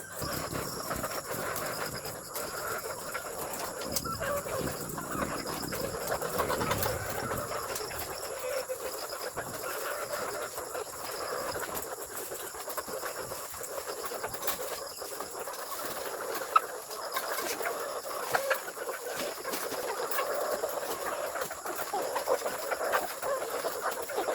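Layer chickens on a small backyard farm cluck and murmur in low, scattered calls over a steady hiss of ambient noise, fairly faint and continuous.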